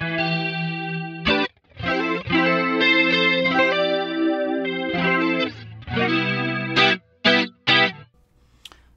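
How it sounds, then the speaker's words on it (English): Electric guitar drenched in heavy chorus for a spacey, warbly 1980s tone, playing sustained chords and short stabs that ring out alone, with a few choppy bursts near the end before fading. "Chorus is a modulation effect and it gives it that 80s vibe, that super like spacey,"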